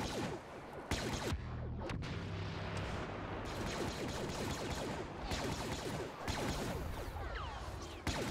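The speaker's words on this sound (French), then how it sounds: "Deux explosions en même temps, c'est pas grave." Explosions and blaster fire rage in a Star Wars Battlefront battle, with dense overlapping booms, whooshes and crashes in a continuous loud barrage and sharp bursts throughout.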